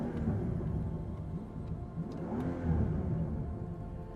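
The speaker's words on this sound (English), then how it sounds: "when you rev the car, it's very, very satisfying noise you get, and the whole car shakes" A Mercedes-Benz SL65 AMG Black Series revs its engine, a deep rumbling drone that swells and eases in a couple of rising pulls, heard from nearby at moderate loudness with no talk.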